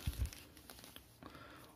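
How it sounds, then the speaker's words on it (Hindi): A new POCO M2 Pro mobile phone being pulled out of a polythene bag gives a brief, close crinkle of plastic at the start, followed by faint rustling and quiet handling noises. "मोबाइल को निकाल लेते हैं पॉलीथीन से बाहर"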